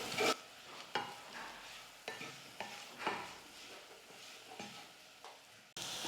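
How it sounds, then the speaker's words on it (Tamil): A spoon scrapes and stirs through bitter gourd curry with chili powder and salt in a pan, making repeated soft strokes over a faint sizzle, with no talking. "இப்போ எல்லாத்தையும் சேர்த்து ஒரு நிமிஷத்துக்கு நல்லா கலந்து கொடுத்துக்கலாம்."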